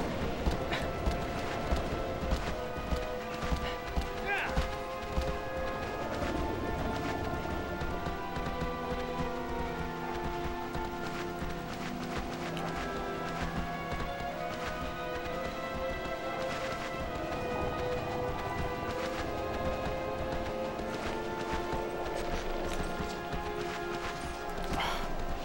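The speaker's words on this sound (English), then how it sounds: "I hate this horse" Horse galloping in a video game, a steady dense run of hoof clatter with rain-like patter over layered game music and ambience, continuous and fairly loud.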